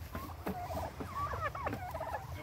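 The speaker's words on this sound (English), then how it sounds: "Come on, turkeys." A flock of turkeys gobbles and chatters nearby in a farmyard, with repeated warbling calls overlapping in quick bursts over low background rumble.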